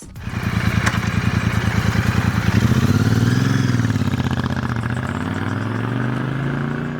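A Royal Enfield Super Meteor engine idles and revs through stock exhausts with a steady, deep rumble, fairly loud and close, rising briefly in pitch before settling back to a low throb.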